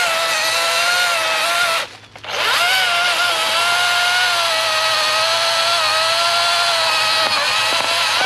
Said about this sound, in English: I bought an electric chainsaw. I got a Cobalt electric.